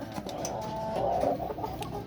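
A chicken clucks close by in a short burst, with faint farmyard ambience behind it.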